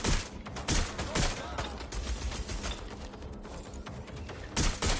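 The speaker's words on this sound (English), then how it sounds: "Gunfire!" Rapid bursts of gunfire in Watch Dogs: Legion crackle in quick volleys, loud and close, with a voice faintly underneath.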